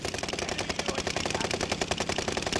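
Rapid automatic gunfire in a shooter video game rattles out as a fast, dense, continuous burst at high volume with no pauses.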